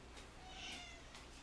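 A sleeping cat picked up during an indoor livestream gives a single faint, soft meow, heard alone over a low background hiss.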